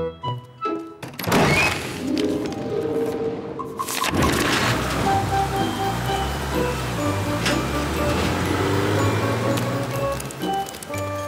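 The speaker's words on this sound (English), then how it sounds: "Maybe Garfield will take us in out of this rain." Steady rain falls on an animated cartoon scene, a continuous broadband hiss that starts after a heavy thud and runs beneath music for the rest of the clip.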